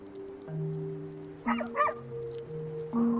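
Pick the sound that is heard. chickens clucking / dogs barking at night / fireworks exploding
dogs barking at night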